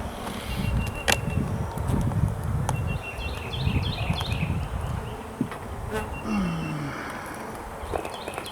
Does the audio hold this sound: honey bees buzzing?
yes